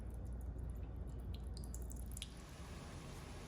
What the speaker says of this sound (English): we're gonna drain the meat. I'm using the lid to help me. And just slowly drain it off